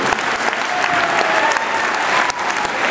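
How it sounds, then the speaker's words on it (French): An indoor audience applauds at a speech gathering, a loud, dense, sustained clatter of many hands clapping close by throughout. "on va l'applaudir aussi"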